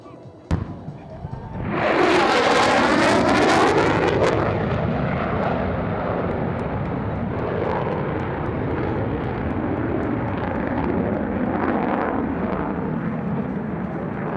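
An F-35A Lightning II jet on a high-speed pass at an air show roars in suddenly after a brief quiet moment, building to a loud sustained rumble and whoosh that lingers as it recedes.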